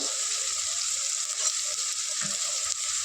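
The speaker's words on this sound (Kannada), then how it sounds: "ಮೆಂತ್ಯ ಸೊಪ್ಪು ಹಾಕ್ತೀನಿ. ಸ್ವಲ್ಪ ಫ್ರೈ ಆಗಲಿ" Fenugreek leaves fry in a hot pan, giving a steady, close hiss that runs unbroken for a few seconds with faint stirring knocks underneath and no talk.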